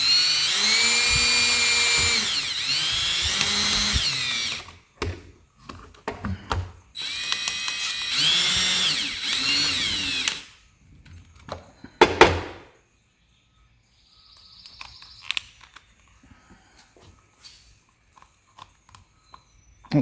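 A power drill drives a screw into a locking gas cap, whining in two long bursts with rising and falling pitch. Sharp clicks and brief ratcheting follow, then quieter handling noises, close up and with no talk.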